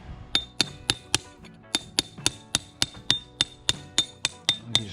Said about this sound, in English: use a plug and chisel on it.